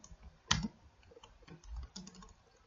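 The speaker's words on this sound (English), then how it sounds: "Okay, so I'm gonna type David." Someone types a short name on a computer keyboard, a few quiet close key taps and clicks with one sharper keystroke near the start, in a quiet room.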